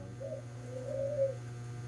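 A zebra dove, known locally as bato-bato, coos softly a few times in a gentle, low, drawn-out pattern against a steady background hum.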